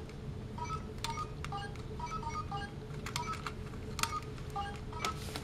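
Short electronic beeps from the button tones of a Korean DX Shodo Phone toy from Samurai Sentai Shinkenger, pressed one after another in quick irregular bursts over a low steady hum, with faint clicks between them.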